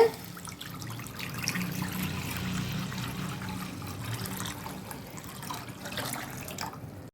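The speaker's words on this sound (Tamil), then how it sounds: "நான் 1 லிட்டர் அளவுக்கு தண்ணி அளந்து எடுத்து வச்சுருக்கேங்க. இப்போ இதில் சேர்த்துட்றேங்க." About one litre of water pours steadily into a pot of rice kheer, a continuous splashing rush for several seconds that stops abruptly at the end.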